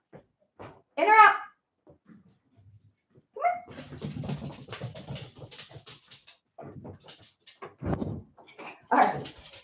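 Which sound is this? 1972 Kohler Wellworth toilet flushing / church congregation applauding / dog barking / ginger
dog barking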